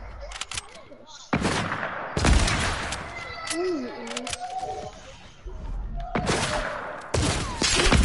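Fortnite gunfire in a video game, with several loud bursts of shots spread across the stretch amid game effects, and a voice talking at points.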